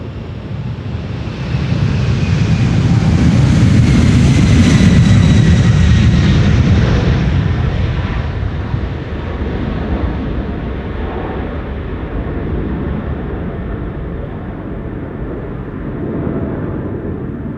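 A United Boeing 767 departs Amsterdam Schiphol's runway 36L, its jet engines building into a loud, broad roar that peaks and then slowly fades into a lingering distant rumble, with no talk.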